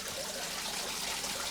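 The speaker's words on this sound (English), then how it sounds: "you can see a slight trickle of water which is coming down, which is my little waterfall" A small aquarium waterfall trickles steadily, a faint, continuous splashing and bubbling close by with no voices and no break in the flow.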